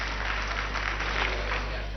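A hall audience at the 1973 Eurovision Song Contest in Luxembourg claps in steady, muffled applause during the vote count, heard faintly and at a distance over a low broadcast hum.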